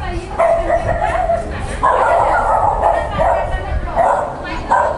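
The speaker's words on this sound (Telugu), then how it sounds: "చుట్టుపక్కల ఉన్న కుక్కలు కూడా అరచడం స్టార్ట్ అయింది." Dogs in a residential neighbourhood bark and yip in repeated bursts at middle distance, overlapping a backdrop of raised voices and general commotion.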